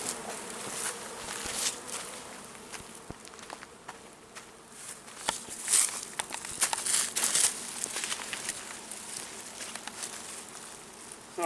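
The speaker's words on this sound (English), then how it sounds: "So now all the bees have crawled into the box." Honeybees buzzing and crawling as they settle into a wooden hive box, a steady close insect drone with small crinkling and shuffling movements throughout.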